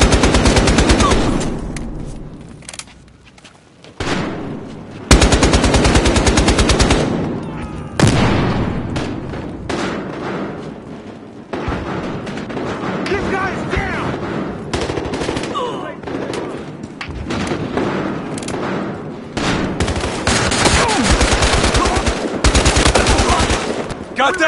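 Video game gunfire rattles in long, loud automatic bursts with short gaps between them, close and dense throughout.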